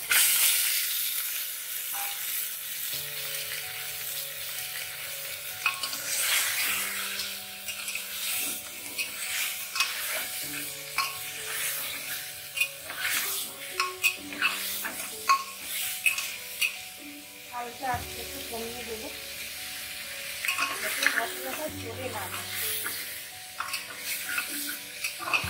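Marinated mutton frying and being stirred in a pan for a Bengali mutton curry, with steady sizzling and hissing, scraping stirs, and tonal music running underneath throughout.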